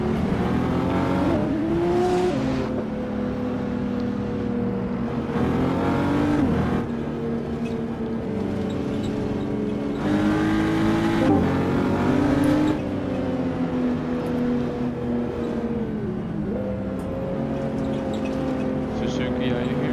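A BMW sports car revs hard during a tire burnout, with repeated rising and falling engine surges that stay loud and close throughout.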